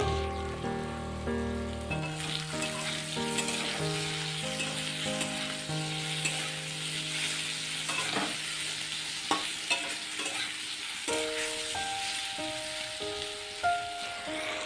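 Potatoes and vegetable stalks fry in a pan, a loud continuous sizzle up close with occasional stirring scrapes, while tonal background music plays throughout.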